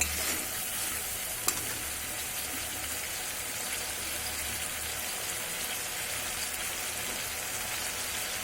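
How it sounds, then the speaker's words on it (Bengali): Spice paste sizzles and fries in mutton fat in a pan over a medium gas flame, a steady dense crackle with stirring scrapes and one sharp clink near the start, close and continuous with no talk. "এবার আমি মশলাটা ভালোভাবে কষতে থাকবো।"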